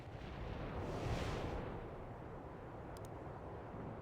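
A distant artillery strike rumbles in the World in Conflict video game, a heavy, sustained blast with a rolling boom that swells early and then settles into a continuous low roar.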